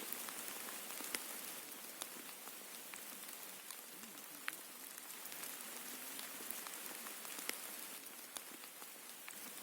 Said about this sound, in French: On voit toutes ces petites gouttes d'eau.